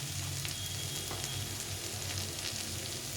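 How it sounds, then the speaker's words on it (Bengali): Potato and onion fry together in a pan with a constant, moderately quiet sizzle and light crackle, steady throughout with no talking. "আলু আর পেঁয়াজটা ভাজা ভাজা হয়ে গেছে, একটু ভেজে নিয়েছি"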